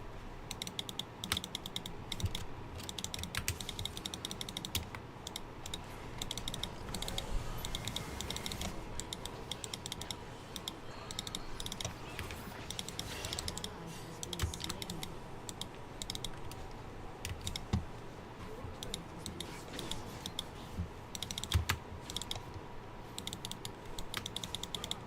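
Steady, continuous typing on a computer keyboard during a League of Legends session, with rapid close key clatter running throughout under a constant hum of game and room background noise.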